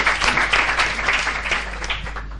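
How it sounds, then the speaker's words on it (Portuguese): An audience at a literary reading with a Brazilian writer gives strong, dense applause that starts loud and eases off gradually toward the end. "Um aplauso para Marie."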